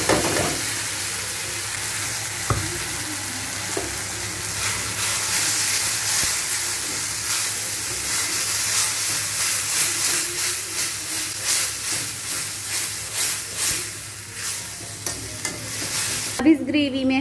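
Tomato puree frying and being stirred into onion gravy in a pan, a steady loud sizzle with a continuous hiss and scraping stir strokes, ending in a brief clatter.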